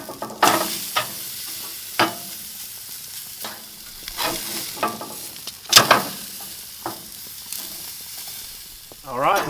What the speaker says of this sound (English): let's get this guy on the grill